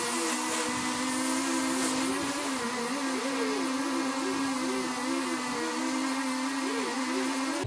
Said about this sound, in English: What I want to do now is, with the pressure washer, you can see that over there, the yellow, is just clean up these stones a bit.